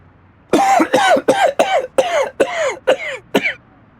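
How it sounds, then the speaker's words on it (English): A man with a sore throat coughs and clears his throat in a rapid run of about eight harsh, loud bursts, close by, with no talking. "can't stop coughing."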